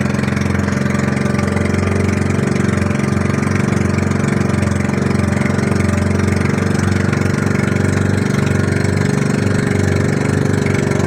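Steady low drone of boat engines idling continuously throughout on Manila Bay, a constant mechanical hum with no pauses, close and fairly loud.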